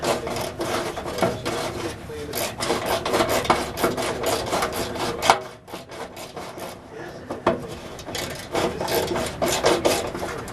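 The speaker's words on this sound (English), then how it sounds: "And ratchet, reverse direction on my old Sears fine tooth." An old Sears fine-tooth ratchet clicks in reverse during car exhaust heat shield repair, with rapid close rasping clicks in bursts and short pauses between strokes.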